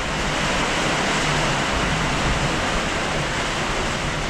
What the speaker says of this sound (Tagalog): Bigla na lang lakas ng ulan.